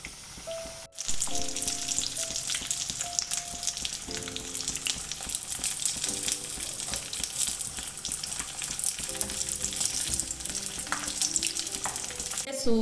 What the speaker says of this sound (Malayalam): നമുക്കിനി നമ്മുടെ സമൂസ ഓരോന്നിട്ട് കൊടുക്കാം. ചൂടായി കിടക്കുവാണ് എണ്ണ. ഇവിടെ വെളിച്ചെണ്ണയിലാണ്.